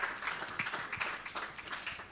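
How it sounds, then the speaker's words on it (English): Applause for a panel of speakers at a Carespring event, a dense, steady patter of many hands clapping together at moderate distance, with no talking over it. "please a round of applause for our panelists"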